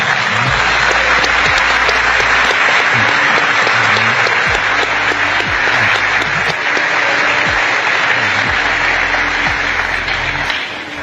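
Loud, sustained applause from a large audience at a talk fills the whole stretch, dense clapping that holds steady throughout with a low hum underneath.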